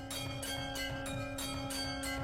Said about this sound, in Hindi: मंदिर की घंटी बजने लगी